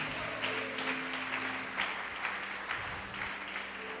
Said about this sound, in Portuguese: Você pode aplaudir o Senhor Jesus por isto?